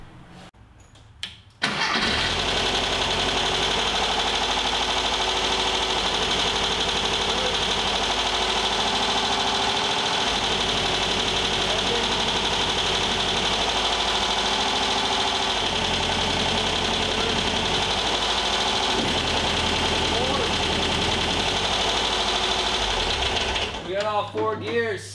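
A VW Thing type 181's air-cooled engine cranks and catches, then settles into a steady, loud, clattering idle that runs for over twenty seconds before shutting off.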